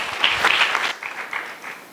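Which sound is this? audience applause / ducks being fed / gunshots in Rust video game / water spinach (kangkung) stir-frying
audience applause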